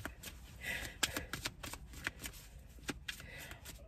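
Tarot cards being shuffled by hand, a quiet continuous riffling and flicking with soft rapid slaps, close and low in level, with no talking.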